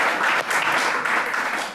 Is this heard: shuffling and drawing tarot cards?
no